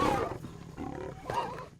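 Lions feeding on a freshly killed deer, giving deep rumbling growls and roars in several close, loud bursts with brief pauses between them.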